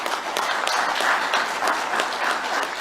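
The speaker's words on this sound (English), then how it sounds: "let's clap hands for all of them at the beginning" An audience claps steadily for special guests at an event where a manifesto for the CAF Presidency is being unveiled, the dense applause holding at an even level throughout without a break.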